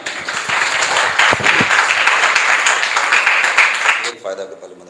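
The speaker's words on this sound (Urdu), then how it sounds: "آپ کی بھرپور تالیوں میں۔" Audience applause at an Urdu poetry mushaira, a dense, steady wash of many hands clapping for about four seconds before quickly thinning out and fading.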